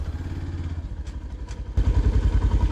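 A Hero FZ X motorcycle engine idles close by with a steady, throbbing chug while being parked, then swells into a louder, rougher rev.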